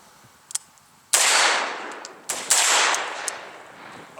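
Rifle fitted with a Lantac Dragon muzzle brake fires two loud, sharp shots about a second and a half apart, each blast followed by a long ringing decay, with faint clicks before the first.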